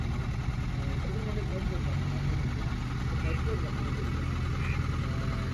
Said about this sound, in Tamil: இப்போ நான் வண்டி ஸ்டார்ட் பண்ணுறேன் பாருங்கள்.